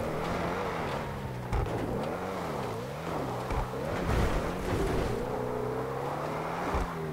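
Audi R8 engine in GTA V revving and wavering up and down as the car bounces off-road through bushes and hilly terrain, with occasional thumps and scrapes over the continuous drone.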